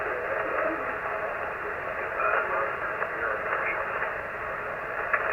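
Steady hiss of static on a 40 meter ham radio band, a continuous band-limited crackle and rush with faint fluttering artifacts, no clear voice, even loudness throughout.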